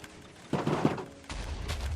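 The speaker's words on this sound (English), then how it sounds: "Oh! It exploded." A Minecraft explosion in version 1.15.2 gives a loud burst partway through, then a rumbling low tail that keeps going to the end. It is heard alone, with no talking over it.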